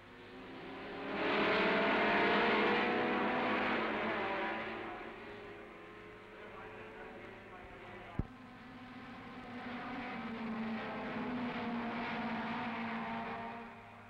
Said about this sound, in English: Now for the start of the Formula Junior race, and, to coin a phrase, they're off.